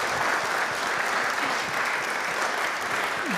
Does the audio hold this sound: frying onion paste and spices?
no